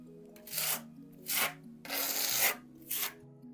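Decorative concrete plaster, Loft Beton Mix with Marmarin Maxi in colour D20C, troweled onto a wall slightly thicker than the grain: four rough scraping strokes at a steady pace, close and fairly quiet, with no talking.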